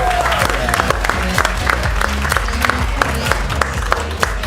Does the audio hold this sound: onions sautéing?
no